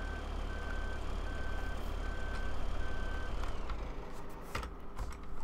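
A Peterbilt truck in Farming Simulator 2013 reverses into a parking spot beside a water truck trailer, its steady evenly spaced backup beeps sounding over a loud low engine drone.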